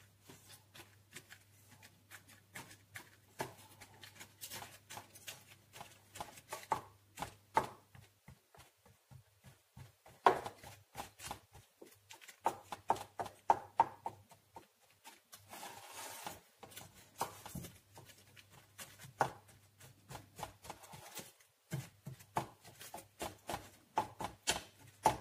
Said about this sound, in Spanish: con un tenedor, vamos a picar toda la masa